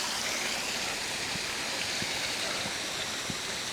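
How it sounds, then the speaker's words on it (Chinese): A waterfall in a remote forest near an abandoned hamlet in Taiwan, heard as a steady, dense broadband rush of falling water that continues unbroken and fairly loud throughout, with no voices over it. "哇，这里还有个瀑布哎！"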